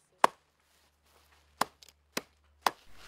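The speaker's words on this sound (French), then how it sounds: "Hachez les plantes sur un sac propre" Four sharp knife chops through wild marigold and hot pepper plants on a clean bag, irregularly spaced, close and crisp against near silence.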